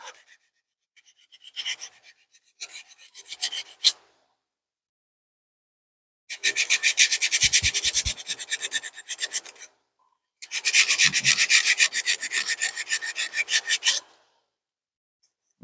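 Wood is hand sanded with 80 to 120 grit sandpaper in rapid back-and-forth strokes, two short soft bursts followed by two longer, louder scratchy runs of close rasping, separated by silences.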